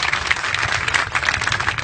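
A large crowd at an Aam Aadmi Party rally claps loudly and steadily in response to a speech by Kumar Vishwas, a dense, continuous burst of applause heard up close.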